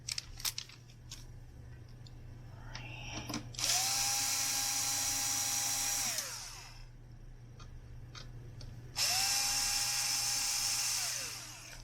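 Small electric screwdriver loosening screws on a Concord 220 tube reel-to-reel tape recorder, two sustained whirring bursts of a few seconds each with faint clicks and handling noises between them, close by and without talk.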